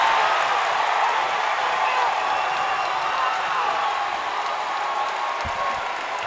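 A basketball crowd at the MTI Center roars during a free throw, a loud, dense wall of cheering and clapping that holds steady throughout with only a slight fade near the end.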